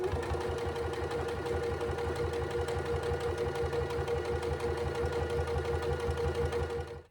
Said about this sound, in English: swivel it around to top stitch along the other long edge.